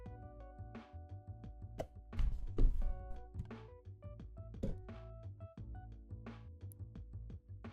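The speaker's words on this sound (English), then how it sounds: "The box itself is held with a magnet, and when you open it, it splits into two parts." A magnetic IEM box opens during an unboxing, heard as close, quiet thunks, taps and knocks of cardboard parts coming apart, irregular and isolated against a quiet background.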